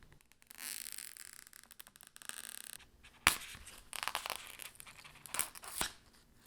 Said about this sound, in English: all you have to do is pull up the edges and peel it off